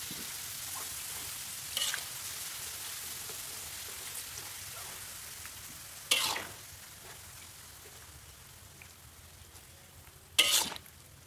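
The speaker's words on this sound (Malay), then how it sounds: "Kita goreng sampai dia betul-betul masak, biar dia keras, biar adonan ni crunchy." Kerupuk atom crackers frying in hot oil give a steady, soft sizzle throughout, with a few brief louder bursts of crackle as batter drops in or is stirred.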